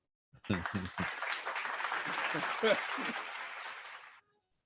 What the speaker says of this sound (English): can I get a hands clap, please?